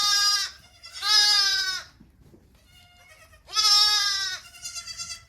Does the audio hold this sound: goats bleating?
yes